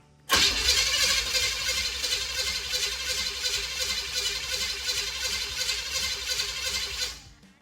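A car engine is cranked over and over without catching, a steady rapid starter churn running loud and continuous for about seven seconds before cutting off.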